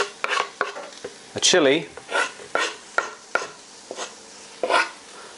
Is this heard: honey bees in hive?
no